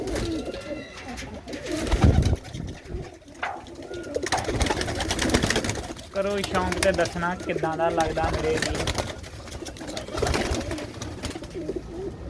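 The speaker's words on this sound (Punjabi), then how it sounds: "ਇਹ ਦੇਖੋ ਇੱਕ ਮੌਜਾ ਆ ਲਾਲ ਸਰਾ ਕਬੂਤਰ ਆ" Red-headed pigeons coo in repeated soft, throaty rolls, close by, while someone talks over and between the calls.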